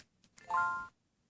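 BookPort Plus reader giving a short electronic chime as it wakes from power save after a key press, a single clear tonal ding lasting under half a second, with a faint click before it.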